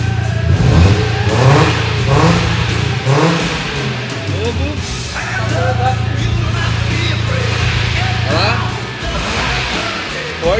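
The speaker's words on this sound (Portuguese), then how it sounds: "vou acelerar o carro aqui, vocês vão ouvir o barulho original do carro, ó, original, e o barulho esportivo" A car engine revs up and settles repeatedly through an exhaust valve, switching between stock and sporty sound, a throaty mid-range drone rising and falling for several seconds with voices faintly underneath.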